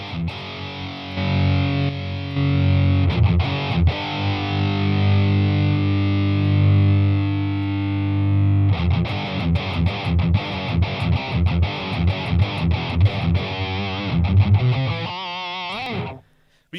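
Electric guitar played through a Boss Katana MkII amp with its 10-band EQ switched off, loud distorted tone with sustained held notes, then choppier strummed and picked passages, no talking.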